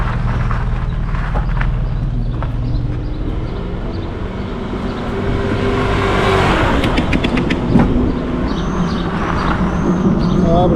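A car passes along a street in the Pogórze area, its engine rising and falling at moderate distance amid outdoor ambience, with faint birds chirping and small clicks nearby.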